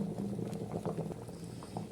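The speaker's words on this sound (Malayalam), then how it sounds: "ഇപ്പം അതേ നല്ലോണം തിളച്ചിട്ടുണ്ട് കേട്ടോ അപ്പം ഞാൻ ലോ ഫ്ലെയിമിലേക്ക് ആക്കി കൊടുത്തൊക്കെയാണ്" A pot of mango pulissery curry bubbles on low flame, with a soft, close, continuous simmer and scattered small pops, and no voices.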